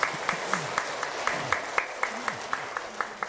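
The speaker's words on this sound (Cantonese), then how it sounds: "好俾啲掌聲俾你自己" Clapping at a Buddhist retreat gathering, a steady rhythmic beat of regular claps, moderately near, with faint voices murmuring underneath.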